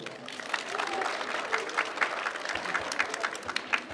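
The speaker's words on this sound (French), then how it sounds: "On peut l'applaudir?" Crowd applause at a cosplay contest prize ceremony at a manga convention in Amiens, a lively patter of clapping lasting several seconds, fairly close and moderately loud, with scattered sharper claps standing out.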